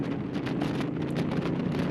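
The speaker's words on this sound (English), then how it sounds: "It is a windy day today" Steady rushing wind buffets the microphone while riding a 2018 Honda Africa Twin Adventure Sports motorcycle, a broad continuous roar with gusty fluctuations and no talking.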